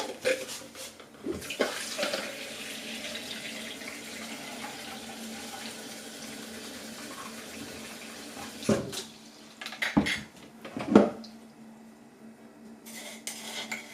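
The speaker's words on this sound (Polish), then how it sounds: "Dorobię jeszcze wody." Salted water poured into a glass jar packed with cucumbers for pickling, a steady trickle in a home kitchen, broken by clinks and knocks of glass and utensils toward the end.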